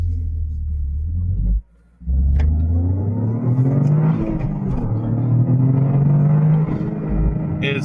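A Toyota Corolla GR engine revving up loudly and close, its pitch climbing in a long pull, a brief drop during a shift near the start, then rising again.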